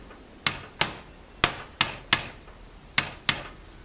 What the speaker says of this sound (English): I'm going to get my hammer and pound this down